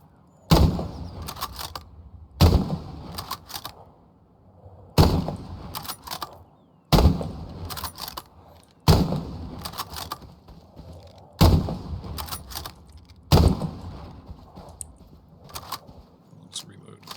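A No. 4 Mk 1 bolt-action rifle in Hell Let Loose fires seven sharp, loud shots spaced a couple of seconds apart, each crack followed by a short echoing tail, with faint bolt-cycling clicks between them.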